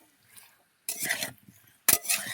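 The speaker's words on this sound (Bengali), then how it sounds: "এটা 5 মিনিট কষিয়ে নেবো।" Katla fish curry being stirred in a pan, with two bursts of scraping spoon-against-metal strokes and light sizzling separated by near-silence, close and fairly quiet.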